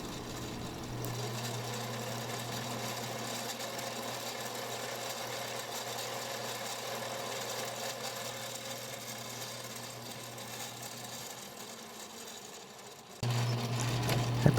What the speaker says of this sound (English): Then center drilling.